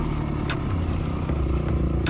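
A dirt bike engine runs during a hare scramble race on a sand track, a steady loud buzzing drone with rapid, regular clattering pulses riding on top, close to the microphone and without voices.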